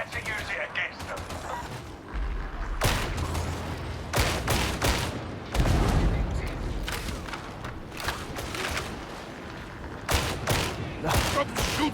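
Gunfire in the video game Warhammer 40,000: Darktide comes in several separate loud bursts spread across a chaotic battle, with rumbling and mechanical noise between them and voices talking throughout.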